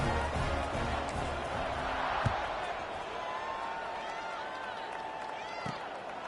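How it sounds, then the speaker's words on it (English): A large stadium crowd roars steadily throughout in a College Football 26 game on PS5, a dense, continuous wash of cheering with a couple of faint thumps underneath. "You think this crowd's going to get loud when their defense comes on the field?"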